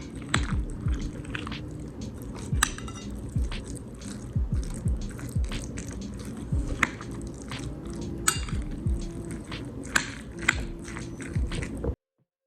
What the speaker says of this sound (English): So with the bibimbap, you're gonna mix everything together.